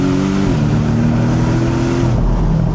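A Porsche 718 Boxster GTS flat-four engine holds high revs with a loud, sustained drone and steps up through a couple of pitch shifts, close to the listener.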